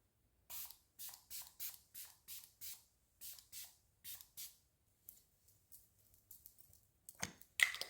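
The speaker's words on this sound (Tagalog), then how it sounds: "Mag-spray tayo para mas glow effect" Face mist spray used during a makeup routine: about ten quick, crisp pumps in a steady rhythm, close to the mic, followed by a few softer scattered hisses and clicks.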